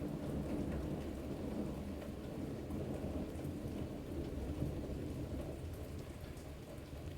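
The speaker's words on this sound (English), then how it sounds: "there was some thunder. Hopefully the camera picked that up." Rolling thunder rumbles through a steady outdoor rainstorm, the downpour hissing continuously at an even level for the whole stretch with no voices.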